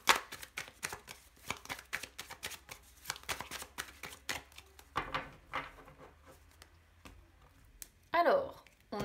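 A deck of tarot cards being cut and handled, a rapid run of light card slaps and riffles close up, with a speaker talking softly throughout and a brief rustle near the end.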